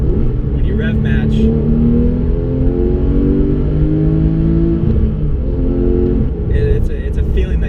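A 2011 Porsche GT3 RS 4.0 flat-six revving through a rev match, loud and close, its engine note rising and falling in sustained sweeps with a second burst near the end, while a voice talks over it.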